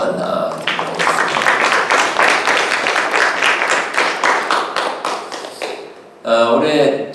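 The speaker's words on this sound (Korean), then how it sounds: "우리 한번 큰 박수 한번 드리겠습니다." A church congregation claps for mothers in a big round of applause, a loud rippling burst of many hands that swells, holds for several seconds, then fades before a voice resumes speaking.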